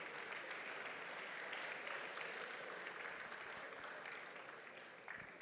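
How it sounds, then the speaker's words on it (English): Sustained applause from a graduation ceremony audience honouring the prize winners, a steady dense clapping that carries the whole stretch and eases slightly near the end. "Let's give another round of applause to the prize winners."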